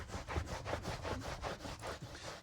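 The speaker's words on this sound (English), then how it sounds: "So just wiping over the surface." Repeated back-and-forth wiping strokes as a car floor mat is scrubbed with Turtle Wax foaming interior cleaner, a steady rhythmic rubbing and scratching, close up with no talking.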